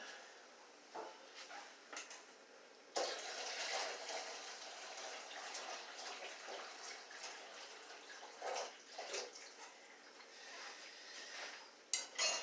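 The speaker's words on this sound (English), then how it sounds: "Drain the water off the pasta, quick and easy as you can." Cooked wheat penne pasta drained in a kitchen, with water pouring and splashing steadily for several seconds amid clanks of pots and utensils, alone without talk.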